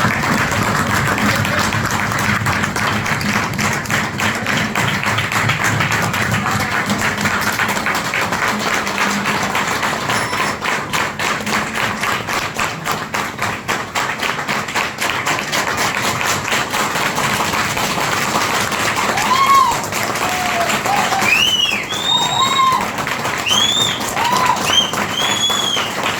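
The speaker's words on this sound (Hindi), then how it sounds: "उससे पहले मैं चाहूंगा जोरदार ताली हो जाए।" An audience claps loudly to welcome a speaker onto the stage at an AWPL event, a dense, sustained roar of applause that runs the whole time, with a few shrill whistles toward the end.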